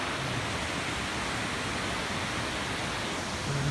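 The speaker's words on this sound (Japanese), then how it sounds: "で、銀河の滝って多分あれだと思うんですよね" Ginga Falls in Sounkyo gorge, Hokkaido, gives a steady broadband roar of falling water, constant and full without pause, with no voices over it.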